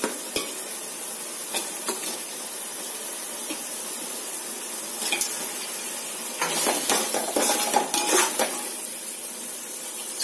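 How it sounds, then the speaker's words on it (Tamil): About 300 grams of chicken frying in masala in a pan, a steady close sizzle with repeated scraping and stirring clatter of a utensil against the pan. "சிக்கன் நல்லா அந்த மசாலாவில் நல்லா டிப் ஆயிட்டு ஃப்ரை ஆகட்டும்."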